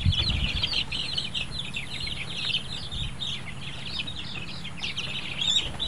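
Young chicks being moved into a cage peep in a rapid, continuous chorus of high chirps, fairly faint, with a few low thumps and handling noises underneath.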